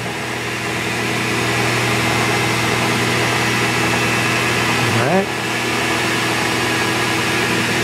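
A metal lathe turns a steel stop rod with a carbide insert tool at about 1200 rpm, giving a steady machine hum with faint tonal whine and a brief rising sweep midway as the spindle or feed changes.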